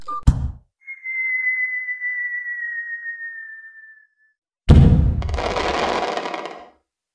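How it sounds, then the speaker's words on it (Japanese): A self-destruct device in a chaotic cartoon skit goes off: a long, thin whistling tone glides slowly downward, then after a brief silence a loud, roaring broadband blast bursts in and rumbles for about two seconds before cutting out. "そろそろ爆発するわね"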